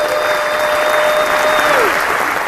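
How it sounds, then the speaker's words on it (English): Dense, steady applause from an audience at a men's empowerment summit run by a radio station, loud and continuous throughout, with a sustained electronic tone gliding downward near the end. "Give them a round of applause"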